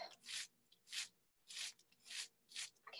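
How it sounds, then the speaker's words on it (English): Fingertips rub bubble wrap pressed onto paper, giving five soft, even rasping strokes in a steady rhythm, close and fairly quiet, with no talking. "with my fingertips, gently rub the bubble wrap"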